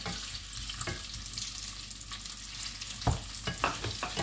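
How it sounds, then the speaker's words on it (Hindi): Sago and potato pieces frying in oil, a dense close sizzle running throughout with a few scraping stirs near the end. "इसको भी तेल में थोड़ा सा भून लेंगे"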